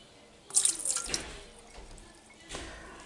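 Milk poured into egg yolks in a bowl while making batter for battered squid rings, a short close liquid splash and trickle that fades, with a faint knock near the end.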